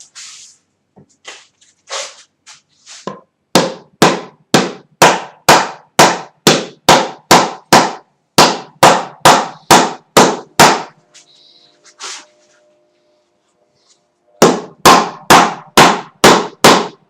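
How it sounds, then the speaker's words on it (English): Loud, evenly paced hammer blows in a woodworking shop ring out in a long run of sharp strikes, pause for several seconds, then resume in another quick series. "I need a hammer"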